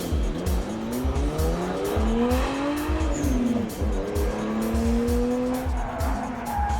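A Nissan Skyline with four-wheel steering and all-wheel drive slides hard, its tires squealing loudly over a steady, revving engine roar that rises and falls throughout, close and continuous with no talking.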